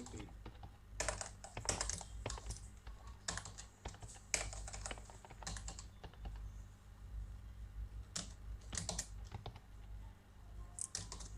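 Keys clicking on a computer keyboard during a Ctrl+P print shortcut in Excel, coming as bursts of close, quiet taps with short pauses between them.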